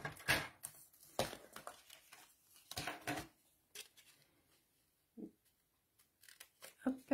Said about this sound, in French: Finir les coins au ciseau.